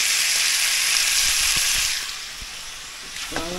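Onions and fresh tomato sizzling in a hot pan for a pork mechado: a loud, steady frying hiss that eases slightly near the end, with a few soft clinks of utensils.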